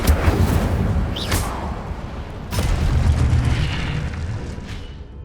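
The Incendio fire spell is cast in Hogwarts Legacy, giving a deep, roaring whoosh with sharp cracks and blasts layered over a continuous rumbling burn.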